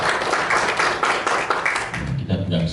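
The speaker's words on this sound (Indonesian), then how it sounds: "Tepuk tangan untuk Pak Sugeng." Brief close clapping from an audience at a capacity-building event, a few seconds of rhythmic hand claps that give way to a voice speaking at the end.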